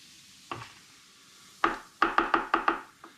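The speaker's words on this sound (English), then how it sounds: "I'm going to give this a bit of a break up and a stir with my big spoon." A big spoon stirs and breaks up fermenting rhubarb and ginger cider, giving one knock and then a quick run of six sharp clunks against the vessel, close and fairly loud, with no talk.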